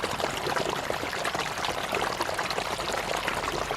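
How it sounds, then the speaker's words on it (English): A flash flood rushes down a ravine, a dense, continuous roar of churning water with no pauses, loud and close, without any voices. "we hear and then see a rush of water from a flash flood"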